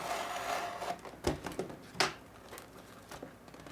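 A few crisp, close snips and rustles of scissors cutting through packing tape on a microphone box, spaced irregularly, with quiet handling noise between and no talking.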